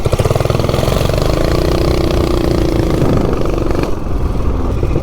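Ported 420cc minibike engine with a 27-thousandths head gasket revving hard as it accelerates from a standstill to 30 mph, a loud buzzy drone whose pitch climbs steadily before dropping off near the end.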